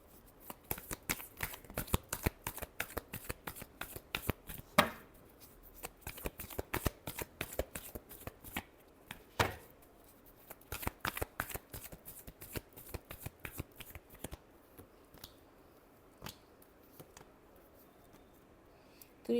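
Tarot cards are shuffled repeatedly, producing rapid, crisp riffles and flicks in bursts with brief pauses between them, close and fairly quiet, with no voice.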